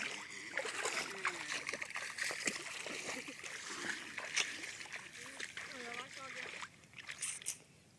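A sea snail dropped into seawater on the Algarve coast makes soft, irregular splashes and sloshing, with voices talking over the water throughout.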